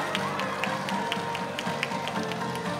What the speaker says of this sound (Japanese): どうぞ盛大な拍手をお願いいたします。